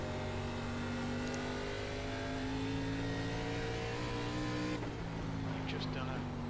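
ARCA race car engine in iRacing, a steady droning engine note that holds and then drops in pitch as the throttle eases, with someone talking over it.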